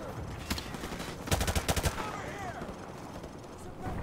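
Automatic gunfire in Call of Duty 4: Modern Warfare Remastered, a single shot followed by a tight cluster of rapid machine-gun bursts at close range, then quieter game ambience with faint battle noise.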